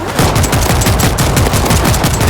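Rapid, continuous automatic gunfire from the video game World War Z Aftermath, loud and dense, with bursts overlapping throughout.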